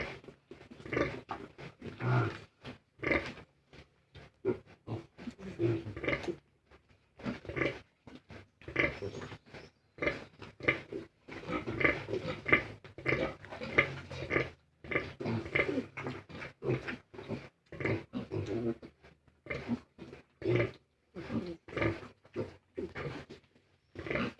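A sow and her piglets grunt in irregular, rapid bursts, snuffling and squealing close up, with short pauses between clusters.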